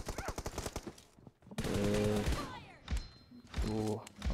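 Gunfire in the PUBG video game during a double headshot, rapid bursts of close shots and thuds mixed with game effects, with a voice talking between the bursts.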